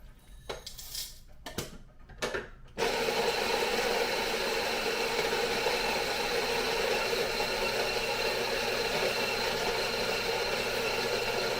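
Coffee grinder grinding Nyamyumba Rwanda roasted beans: a few short rattling bursts, then a loud, steady whirring grind that runs unbroken to the end, close up and without speech.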